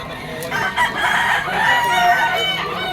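A bull stag rooster crowing at a pet market in Malabon, a single hoarse, wavering crow close by, with other birds and market noise in the background.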